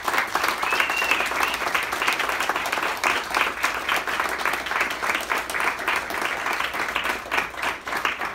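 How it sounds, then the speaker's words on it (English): Sustained applause from an audience honoring military veterans at a bronze Congressional Medal ceremony, steady dense clapping filling the room for several seconds without pause. "Give them a round of applause too."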